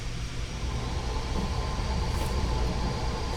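Water running through a swim spa gives a steady, close rushing and churning wash that stays constant with no breaks and no voices.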